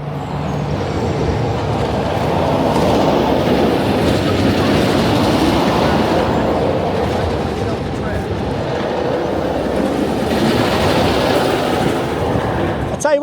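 A YOY single rail roller coaster train at Walibi Holland, an RMC dueling coaster, runs with a steady loud rumbling roar and clattering that holds throughout, with a faint voice underneath.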